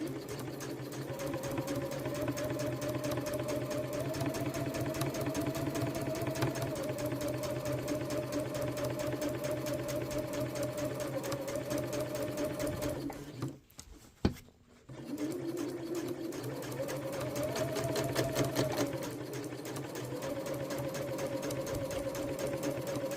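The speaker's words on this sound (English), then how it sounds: "And then you're just going to sew all the way up the edge, keeping an even distance from the edge." A sewing machine runs steadily as it stitches up the edge of a beach bag, a continuous close motor whir with rapid needle chatter, pausing briefly near the middle before starting up again.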